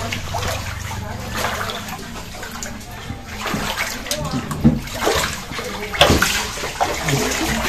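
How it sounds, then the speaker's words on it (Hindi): Dirty drainage water from overflowing chambers floods into homes after heavy rain, making a steady rushing and splashing wash of water close by, with voices talking over it. "ड्रेनेज का गंदा पानी है।"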